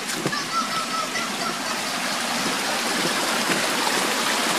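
Water flows steadily at a rural water source, a continuous rushing, splashing wash with no talk over it.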